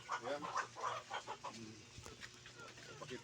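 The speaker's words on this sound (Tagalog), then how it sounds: "Mga Rhode Island chicken yan at mga Australorp." Rhode Island Red and Australorp chickens cluck in a rapid, rhythmic series outdoors near a pig pen, fairly close at first, then quieter and more scattered.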